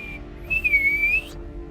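A person gives a single sustained, clear whistle to call two cows, a steady tone lasting under a second, alone and close.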